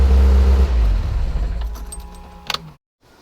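Classic Mini engine running just after starting, a loud low steady rumble that thins out, with a brief metallic jangle near the end before it cuts to silence.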